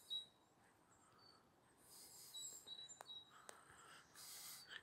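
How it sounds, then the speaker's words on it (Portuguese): Small birds chirp and tweet in short bursts against a quiet outdoor background near a frozen river in Siberia, with a couple of sharp clicks. "Olha o barulho dos passarinhos."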